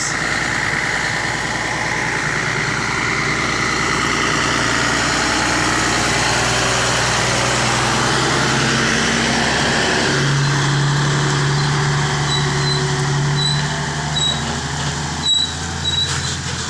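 A loud Hyundai car engine runs continuously up close, a steady heavy drone with a shift in pitch midway and a few brief clicks near the end.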